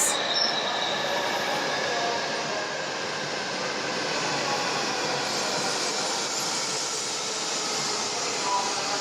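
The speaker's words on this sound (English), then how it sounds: "Here comes the Shinkansen." A Shinkansen bullet train rolls in steadily with a broad, continuous rumble and rail noise, wheels faintly squealing, loud and close throughout.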